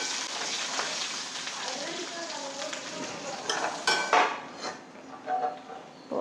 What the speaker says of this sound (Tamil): இப்போது இந்த வெங்காயம்லாம் நல்லா வதங்கிடுத்து